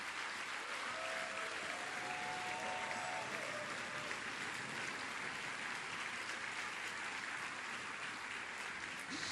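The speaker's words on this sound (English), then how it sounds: "Let's keep the applause going." Steady applause from a large audience at a business forum fills the room, a dense continuous wash of clapping that holds evenly from start to finish with no gaps.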